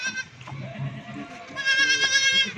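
Goats bleat in a farmyard, with a short cry at the start and a longer, louder, strongly tonal bleat in the second half, close to the listener and over faint background shuffling.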